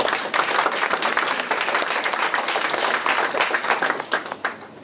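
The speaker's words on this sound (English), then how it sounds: "You want to clap? Then clap." Dense, loud applause fills a lecture hall, sustained and even before tapering off in the last moments.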